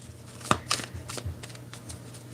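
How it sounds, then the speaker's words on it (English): Tarot cards being shuffled by hand, a few quick riffling bursts and soft card slaps close by, with no talking over them. "These cards don't want to shuffle."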